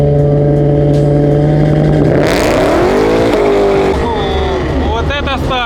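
A rear-wheel-drive Volga car launching off the line at a drag race start, its engine roaring loud and close and rising in pitch through the gears, with a voice talking over it.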